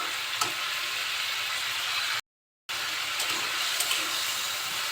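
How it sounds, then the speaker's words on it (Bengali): Sweet pumpkin stir-frying with spices in a pan for a fish curry, a steady broadband sizzle that stays loud and even throughout, broken by one short silent gap, with no voices. "এখন এই মশলার সাথে মিষ্টি কুমড়াটা একটু কষিয়ে নিচ্ছি।"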